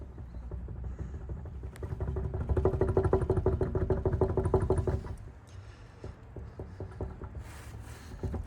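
A bad wheel bearing on a 2007 Volvo XC90 grinds and clatters in a rhythmic mechanical churn that swells louder for a few seconds and then eases back to a lower rumble.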